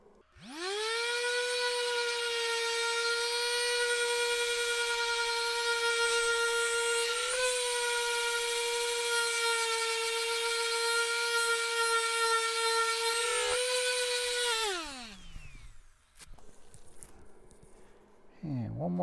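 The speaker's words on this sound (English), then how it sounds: "And one more shot with the polishing compound." A rotary polishing tool buffs an effects pedal enclosure with rubbing compound. It gives a loud, steady high-pitched whine for about fifteen seconds with two brief dips, then winds down, followed by quieter handling noises.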